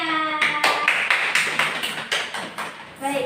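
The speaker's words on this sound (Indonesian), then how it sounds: "Tepuk tangan buat kita semuanya." An elementary classroom of fourth-grade pupils claps hands in a series of sharp, close bursts with short gaps between them, and a bright ringing tone runs underneath at the start and end.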